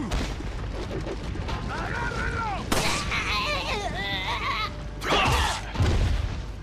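Loud synthetic gunshots in the video game Resident Evil 4 crack over a steady game soundtrack, a few separate blasts a second or two apart, while someone talks excitedly over them.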